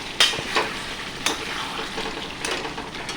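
Thin mutton curry simmers and sizzles in a covered wok (kadai), a soft steady bubbling hiss broken by a few sharp clinks and scrapes of stirring.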